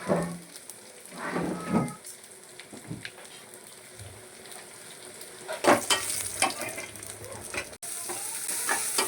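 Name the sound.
mustard seeds, cumin and curry leaves sizzling in oil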